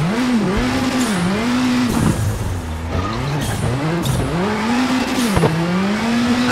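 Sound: rally car handbrake turn in WRC 7 video game

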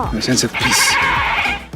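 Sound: sheep bleating behind actors on a Marvel film set

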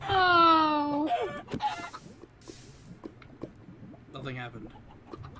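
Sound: chicken clucking in the video game Minecraft Pixelmon

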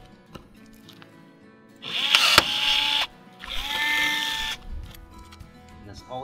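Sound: pneumatic rivet gun riveting rail to corn head deck plate

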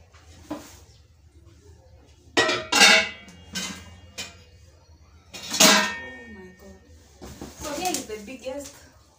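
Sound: granite cookware pots and lids clanking while handled

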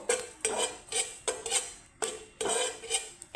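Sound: frying panch phoron five-spice in pan

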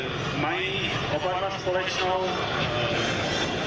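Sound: L-39 jet trainer aircraft flying at an air show

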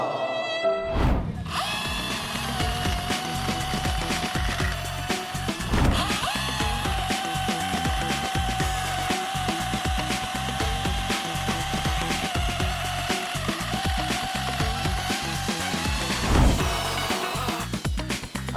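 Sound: INGCO cordless mini chainsaw cutting small wood or branches

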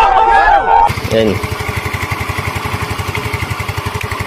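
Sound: Yamaha Mio i 125 scooter engine revving after overhaul

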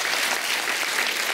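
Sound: audience applause on a TV comedy show

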